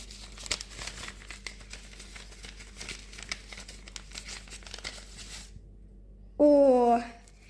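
Soft crinkling and rustling of a thin paper surprise packet being picked runs steadily for several seconds, then a brief loud voiced sound cuts in at the end.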